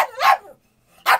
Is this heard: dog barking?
yes